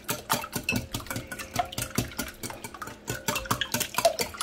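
Eggs being mixed with milk and cream in a bowl make a rapid, steady clatter of whisk or fork against the bowl, close and continuous, with no talking.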